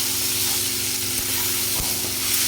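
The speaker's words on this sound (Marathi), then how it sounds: "ते याच्यामध्ये आपल्याला चांगलं परतून घ्यायचं" Peanuts, green chillies and garlic sautéing in a hot pan for green tomato chutney, giving a steady, loud, close sizzle with occasional faint stirring knocks.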